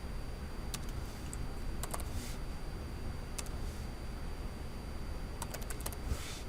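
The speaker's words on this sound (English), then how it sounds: "go ahead and type in your name, your period, as well as the date" Light typing on a computer keyboard as a name, class period and date are entered, with scattered bursts of keystrokes over a steady background hiss and no voices.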